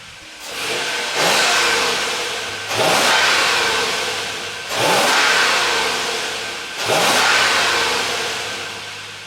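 A Lexus GX470 SUV engine with stock muffler revs hard four times in a steady pattern, each rev rising in pitch and then falling back toward idle. Close and loud.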